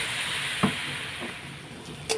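Food being sautéed and stirred in a pan while cooking chana dal, a steady sizzle and hiss with a couple of brief clinks or stirring knocks over about two seconds.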